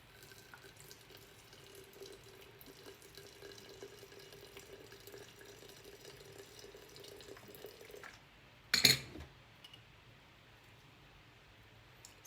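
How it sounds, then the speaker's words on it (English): Liquid pours over herbs in a jar to make a tincture, a soft steady trickling stream that runs for several seconds before a brief louder splash and clatter near the end, then quiet. "now all I'm going to do is I'm just going to pour just enough to cover it."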